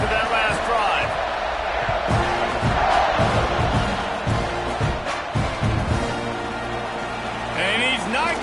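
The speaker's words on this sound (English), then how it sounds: "this crowd is feeling themselves after that last drive" A big stadium crowd roars steadily at a college football game between Oklahoma State and Texas A&M, a dense wash of cheering and whoops under an announcer's voice calling the play.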